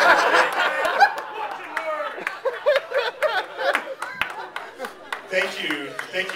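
A comedy club audience claps and laughs, scattered sharp claps mixed with chuckles and murmuring voices, uneven and rising in bursts.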